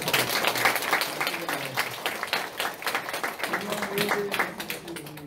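Applause from a seated audience at a Korean academic translation conference at a university, moderate and somewhat distant, with scattered clapping mixed with faint murmuring voices and low background talk.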